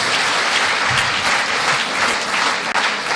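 A closing-ceremony audience gives a loud, sustained round of applause, dense overlapping claps holding steady with no voices on top.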